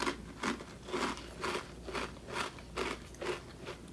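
Loud, close crunching of Ruffles Double Crunch ketchup-flavored potato chips being chewed, about eight sharp bites in a steady rhythm with no talking.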